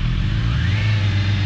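A Honda motorcycle engine revs steadily and loudly up close as the bike pulls away, with a rising mid-range drone throughout.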